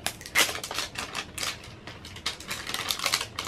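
Plastic packaging around a chocolate hard-rock ice cream cone is opened up close, giving a run of crisp, irregular crinkles and snaps at moderate loudness, with no talking.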